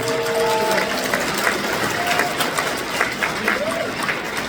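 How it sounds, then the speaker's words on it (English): Guests at a Hmong chamber of commerce gala applaud, a steady wash of crowd clapping with a few whistles and cheers rising over it, continuous throughout. "Can we give them a round of applause?"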